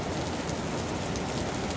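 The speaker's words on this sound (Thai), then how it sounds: "ฝนตกหนักดีทุกคนเมื่อนี้" Heavy tropical-storm rain pours down steadily in a Lao town, a dense continuous roar of drops on surfaces, loud and close with no pauses.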